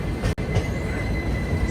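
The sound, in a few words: Telangana Express train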